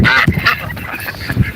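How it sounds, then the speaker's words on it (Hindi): Farm poultry in a US village, a flock of loud, close squawking and honking calls in irregular bursts, with no speech over them. "ये मुर्गियां हैं जो जी"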